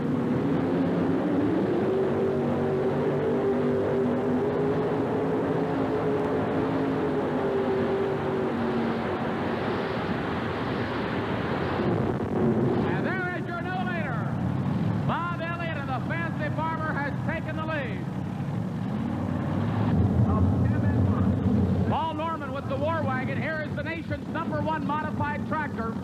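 A 6,000-horsepower modified pulling tractor runs with a sustained, loud, droning engine roar at a Birmingham pulling event, while an announcer talks over it throughout.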